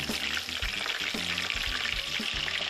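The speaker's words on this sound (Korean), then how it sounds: "그런데 마늘을 기름에 튀깁니다." Steady, loud sizzling of garlic frying in hot oil, with occasional stirring clatter, continuous throughout with no talking.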